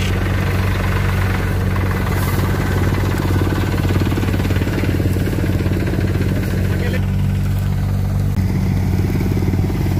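A tractor engine runs steadily on a farm during the wheat harvest, a loud, continuous low rumble with a knocking idle quality that fills the whole stretch without letup.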